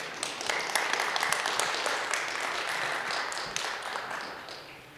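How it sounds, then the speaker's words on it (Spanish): An audience at an academic humanities event gives a round of applause, with dense clapping that holds steady before gradually tapering off toward the end. "Les pido un fuerte aplauso para ellos."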